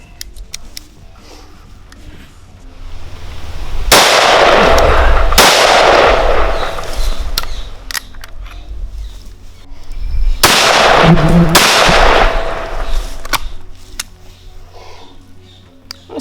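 Two loud, close blasts from a small shotgun with 12-inch barrels fired outdoors, each followed by a rolling echo, a few seconds apart with no talking.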